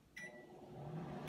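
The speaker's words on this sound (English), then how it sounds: "You put it in the microwave." A microwave oven runs on high, giving a steady, fairly loud hum that continues without a break after a brief click at the start.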